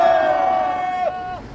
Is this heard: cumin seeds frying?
no